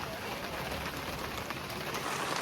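Heavy rain pours near a temple, a dense, even hiss of drops striking surfaces that holds steady and fairly loud for the whole short stretch, with no voices.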